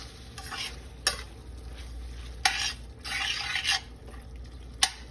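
A spaghetti squash mixture is stirred in a pan, with steady scraping and rubbing strokes over a light sizzle and a few sharp taps of the utensil on the pan, close and without voices.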